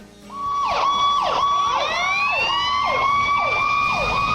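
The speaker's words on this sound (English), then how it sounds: "Perfect. Fire engine." A fire engine siren wails loud and close, rising and falling in repeated sweeping cycles over a faint engine rumble, with no talking.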